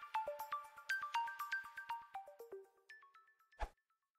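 A phone ringtone plays alone: a quick melodic run of clean, bell-like electronic tones, stepping down and back up, ending in one sharp click before silence.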